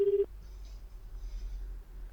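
A single short telephone keypad tone sounds clearly at the start, then the line falls to a faint low hum as a phone number is dialed on a handset.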